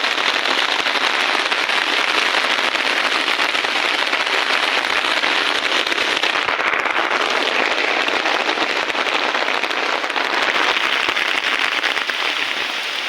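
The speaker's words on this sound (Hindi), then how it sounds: "आप लोग देख सकते हैं यहाँ जोर से बारिश हो रहा है।" Heavy rain pours onto a farm field at Kanke, a dense, loud, unbroken hiss heard up close from under an umbrella, with no talking.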